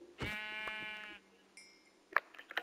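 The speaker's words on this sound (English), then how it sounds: "Sheep! Sheep! It's only one though." A single sheep in Minecraft gives one drawn-out, nasal bleat, clear and fairly close, followed by a few faint game clicks and small effects.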